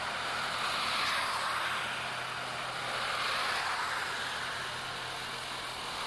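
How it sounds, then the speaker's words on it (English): A vibratory steel-wheeled roller compacts crushed aggregate road base, a steady mid-pitched engine drone with a faint rumble, moderately distant and unchanging. "comes a vibratory steel-wheeled roller to complete the compaction of the base to the required density"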